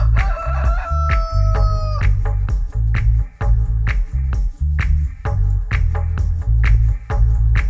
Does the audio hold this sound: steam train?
no